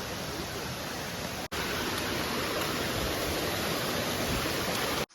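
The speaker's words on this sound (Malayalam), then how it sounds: "ഇനി നമ്മൾ ഒരു അരുവി പാസ് ചെയ്യാണ്." A forest stream on the Agastyarkoodam trek flows in a steady, loud broadband rush of water that fills the whole stretch, briefly cutting out twice.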